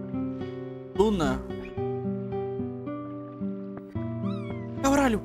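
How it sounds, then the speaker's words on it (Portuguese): A black cat in Chrono Cross meows twice, one call near the start and another near the end, over steady game music. "Um gato preto."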